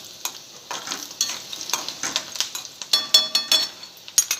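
Garlic, coconut and onion roasting in a pan while being stirred for a brinjal rassa, with a soft sizzle under repeated rhythmic scraping strokes of a spatula, close by and growing more frequent toward the end.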